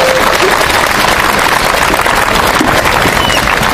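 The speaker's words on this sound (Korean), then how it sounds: "큰 박수 부탁드립니다." Loud, sustained applause fills a church hall at a Catholic protest mass, a dense wash of clapping from a large crowd continuing steadily throughout.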